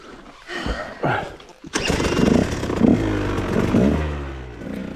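A small 150cc motorcycle on a rough trail: an engine that catches, revs and putters close by, with someone speaking over parts of it.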